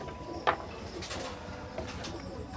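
Imported-bloodline Teddy pigeons cooing softly in a loft, a couple of low coos plus a brief sharp chirp near the start, all faint against quiet room noise.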